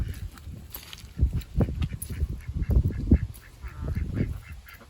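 Backyard ducks kept alongside chickens give a burst of honking and quacking calls, irregular and overlapping, moderately close with light outdoor background.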